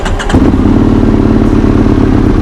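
A loud, steady motorcycle engine runs near and alone, a deep throaty drone with a brief clattering blip at the start and no voices over it.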